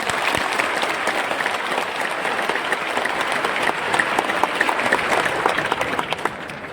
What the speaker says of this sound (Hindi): आप सबके लिए जोरदार ताली होनी चाहिए